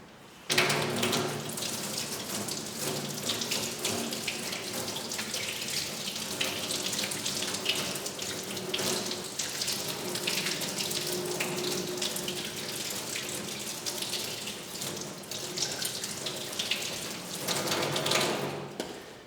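Tap water runs steadily from a faucet into a sink as hands are rinsed during a surgical hand scrub, a continuous close hiss and splash lasting the whole stretch, with no talking.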